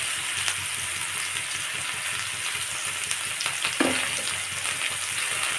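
Spices such as turmeric, salt and chilli powder with a little sugar being fried on low flame for a cauliflower curry give a steady, close sizzle with occasional stirring scrapes, and no talking.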